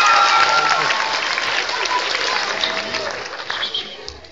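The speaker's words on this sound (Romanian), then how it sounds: "O aplaudăm?" Dense applause from an audience, a steady wash of clapping that slowly thins toward the end, with a few voices mixed in.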